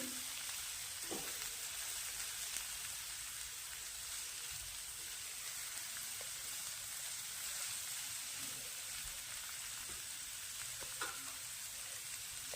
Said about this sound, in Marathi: कांदा आपल्याला छान गोल्डन ब्राऊन होईपर्यंत परतून घ्यायचा आहे